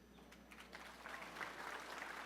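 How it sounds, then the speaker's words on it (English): Audience of Muslim attendees applauding at the Bangsamoro peace agreement signing, a fairly quiet, steady wash of clapping that swells a little after the first second and carries on evenly. "They smile, they cry, they applaud, overwhelmed by what the signing means"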